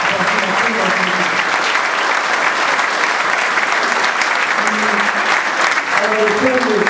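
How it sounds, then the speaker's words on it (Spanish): An indoor audience at a cultural society event in Ciudad Madero gives loud, sustained applause, a dense continuous clatter of many hands, with a voice briefly speaking over it near the start and end. "Creo que nuestros artistas merecen un fuerte, fuerte, un aplauso."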